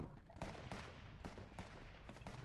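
Distant gunfire in Fortnite: several quick, faint cracks in a loose rapid burst, with more scattered shots trailing off over a low background rumble.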